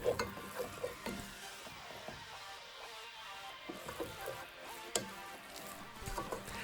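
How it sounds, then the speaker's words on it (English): Easy Mac with garlic powder, cayenne and paprika being stirred in a pan, soft scraping and clinking with a few sharper utensil taps over a faint sizzle, quiet and close, no talk. "time to release our frustration of making Easy Mac through stirring"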